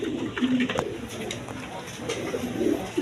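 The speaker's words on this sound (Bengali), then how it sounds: "দুই দুই জোড়া বাসিরাজ কোকা কবুতর" Basiraj Koka pigeons coo in low, repeated bursts close by, with some background murmur and movement around the birds.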